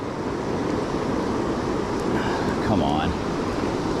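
Whitewater at the base of a river waterfall rushes as a steady broadband roar close by while someone speaks briefly over it during fishing.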